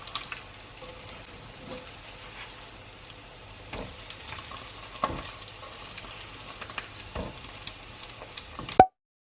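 French toast slices frying in a pan, a steady fine sizzle throughout with occasional clicks and taps of a spatula, close and fairly quiet, ending abruptly.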